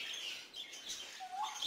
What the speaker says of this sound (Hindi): ये टॉकिंग कर रहा है गंगा।